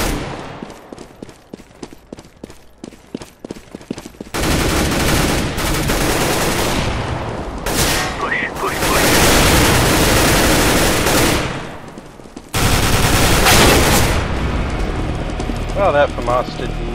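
Rapid automatic rifle fire from a FAMAS in Counter-Strike: Global Offensive, loud sustained bursts with clattering shots, mixed with other game gunfire and effects over several seconds.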